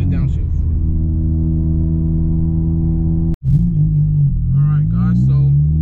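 Car running on an E85 tune, its engine holding a steady low rumble with strong harmonics, cutting out abruptly for a moment before revving back up, with someone talking over it.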